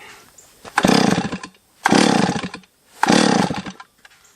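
Stihl 028 Woodboss chainsaw briefly firing and revving in three loud, close bursts about a second long each, separated by short silences, as if catching and dying without staying running.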